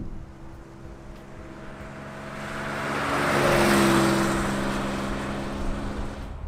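A 1971 Porsche 911E on a road test drive, engine hum heard from inside with a steady drone that swells and revs higher mid-way before easing, tire and wind noise underneath, no speech.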